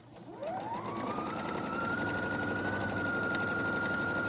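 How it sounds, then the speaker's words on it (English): A sewing machine stitches 6.5-inch fabric strips together with a 1/4-inch seam for a nine-patch quilt block. The motor whirs up quickly and then runs as a steady, close, continuous hum with no talk. "we're just sewing them together with a 1/4-inch seam."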